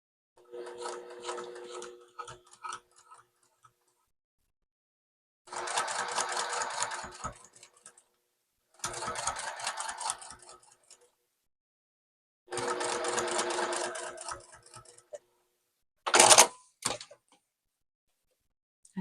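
Juki sewing machine stitching a quilt block with a long stitch, running in four bursts of steady, rapid clatter lasting one to two seconds each, separated by pauses, close up, followed by a short sharp clack.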